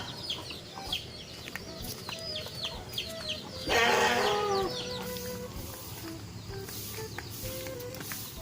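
Chickens clucking in a yard, a steady chorus of short calls with one louder, busier burst partway through, nearby and continuous with no talking.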